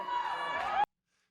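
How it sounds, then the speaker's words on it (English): A brief burst of friends cheering and shouting encouragement for a competitor at a physique show, loud crowd voices over chatter that stop abruptly after under a second. "You can hear my friends cheering me on"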